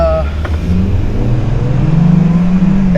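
A 2020 Hyundai Kona 1.6-litre turbo engine with a dual-clutch transmission revs up close, its pitch rising steadily as it accelerates, with a brief voice at the very start.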